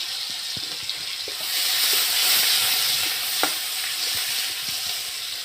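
Panch phoron spices crackle and sizzle in hot oil in a pan after eggplant frying, a steady loud frying hiss with small pops and stirring clicks throughout, no voices.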